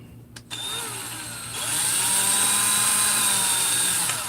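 A power tool whines steadily as it drives a flat bottom tap, cutting bolt threads into a case during engine assembly, a continuous high-pitched hum that rises in pitch and intensity partway through.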